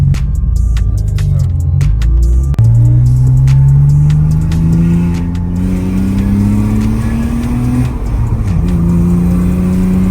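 Dakar Yellow BMW E36 M3 accelerating hard along a mountain touge road in spring, the engine note loud and close, rising steadily in pitch through the gears with a brief lift between shifts, no talking.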